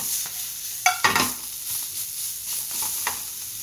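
Ingredients sautéing in a hot pan for a Wagyu beef dish, a constant close sizzle broken by a few sharp scrapes and stirring clatters near the start.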